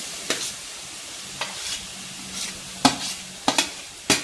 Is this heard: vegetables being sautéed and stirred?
yes